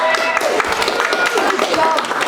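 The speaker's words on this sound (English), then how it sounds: "So give yourselves a clap" Junior football players and families applaud at a club presentation day, a dense burst of clapping filling a room, with voices mixed in among the crowd.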